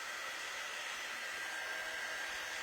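A hair dryer blows steadily and loudly up close, drying a wet layer of paste on a wood surface, a constant airy whoosh with no breaks.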